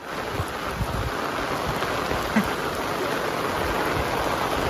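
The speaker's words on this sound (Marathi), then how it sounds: "हे बघा कसलो पाऊस पडता जोर आता" Heavy rain pours steadily in a Konkan garden, a dense continuous hiss and patter close by with no pauses, loud and alone without voices.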